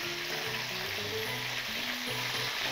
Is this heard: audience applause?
no